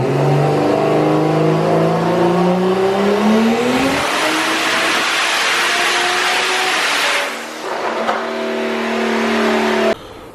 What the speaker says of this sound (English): So, car's on the dyno.